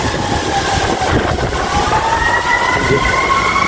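A fire department vehicle rumbles past on its way to an emergency, with rising siren tones breaking through a loud, steady road rumble in the second half.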